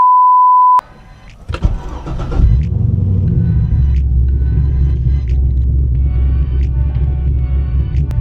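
A Corvette engine cranks and fires up after a short electronic beep, then settles into a loud, steady low rumbling idle as it warms up, close to the microphone.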